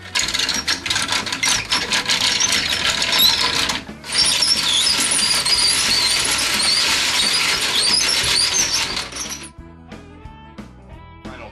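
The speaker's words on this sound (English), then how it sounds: "we're gonna bind these strips together into a square section through the binding machine" Binding machine wrapping bamboo strips into a square section for a fly rod, giving a bright continuous whirring with fine clicking and squeaks, briefly interrupted, then winding down to scattered taps and clinks.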